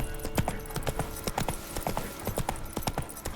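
Horse galloping in The Witcher 3: Wild Hunt, rapid rhythmic hoof clip-clops close by and fairly loud, running steadily alone.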